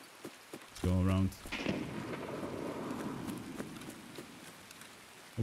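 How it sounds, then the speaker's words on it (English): Rain falls steadily in Escape From Tarkov, a soft continuous patter heard in the background throughout, broken by a brief louder tonal burst near the start and a faint thump at the end. "The rain will also mask our steps a little bit."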